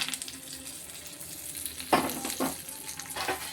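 Hot oil tempering hisses and sizzles sharply as it is poured into turkey berry (sundaikai) chutney, a few loud bursts over a quiet background.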